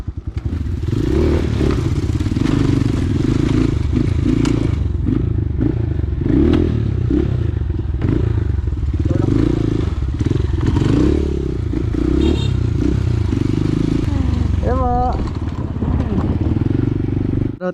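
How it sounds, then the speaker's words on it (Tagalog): A motorcycle engine runs loud and close on a bridge, with a continuous rough rumble and clattering mechanical noise. Occasional scrapes and knocks cut through, and voices can be heard faintly. "Nag-over po na naman yung motor ko."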